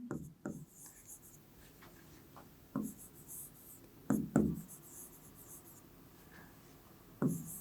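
A pen writes a maths solution on paper in a few separate bursts: a pair of quick scratches, then scattered single and double strokes. The writing is close and crisp against a quiet background, with no voices.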